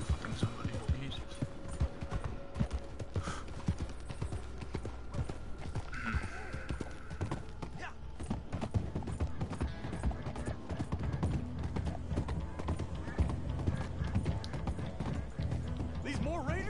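Steady clip-clop of horse hooves at a gallop in Red Dead Redemption 2 Online, continuous and rhythmic under a low hum, with occasional faint voices in the mix.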